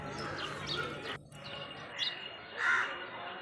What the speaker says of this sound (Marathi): कावळे कावळेपाय किती बसले